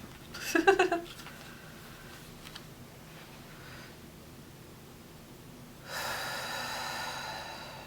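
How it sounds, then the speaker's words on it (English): A person breathes close to the microphone, one sharp snorting intake near the start followed by quieter breaths and a longer hissing exhale toward the end. "I know you can hear me breathing"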